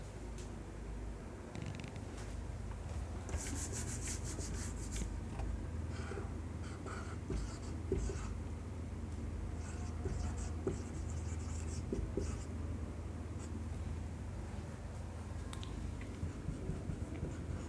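Chalk or a pen scratches steadily on a board in a long stretch of continuous writing, with short strokes and occasional taps, fairly quiet over a low background hum.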